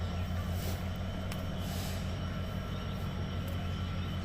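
A train locomotive idles at Abdulpur Junction railway station with a steady low engine rumble and drone, constant and moderately loud, with faint clicks over it.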